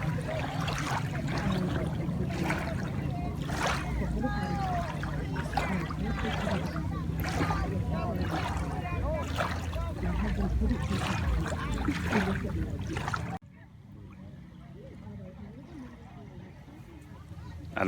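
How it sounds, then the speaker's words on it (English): Lake waves lap steadily against a fishing boat on Lake Perris in summer, a continuous wash of water with splashes, loud and close, before dropping to a quieter hum near the end. "The sound of the waves is pretty relaxing out here."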